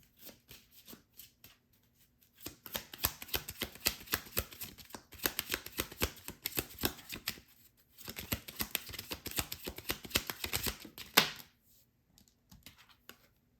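Tarot cards are riffled and shuffled up close in quick bursts of crisp, rapid flicking, two long rounds with a short pause between them and quiet gaps at the start and end.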